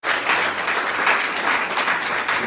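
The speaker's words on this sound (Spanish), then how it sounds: "Démosle un aplauso fuerte a Él." A church congregation applauding during a sermon, dense sustained clapping from a large crowd, loud and even throughout with no speech over it.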